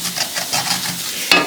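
Food stuck in a ceramic frying pan being scraped with repeated rhythmic rasping strokes over a soft sizzle, close and steady, ending with a sharper scrape.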